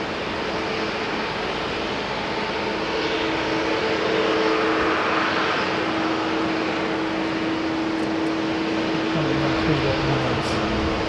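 Air New Zealand flight NZ 630 from Queenstown at Auckland Airport, a loud, steady jet roar with a sustained engine whine that swells slightly midway, with no one speaking.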